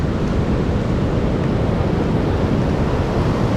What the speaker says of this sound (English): Look at them waves, yo.